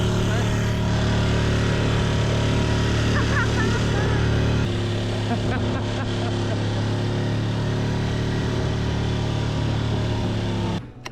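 A Hangkai 6.5hp four-stroke outboard engine on a Tobin Sports Grand Haven Elite boat at Dunoon roars loud and close at full throttle, a steady buzzing drone that steps down in pitch partway through and cuts off sharply at the end.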